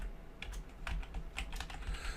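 Computer keyboard typing in a quiet room, a short run of light, irregular key clicks with small pauses, close and moderately soft, with no voices.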